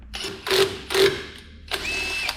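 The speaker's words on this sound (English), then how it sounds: "So we're screwing an M8 bolt into these threads here" A ratchet turns an M8 bolt that presses a stuck brake drum off the hub of a 79 Series work ute, giving a few close, sharp clicking strokes in a quick uneven sequence.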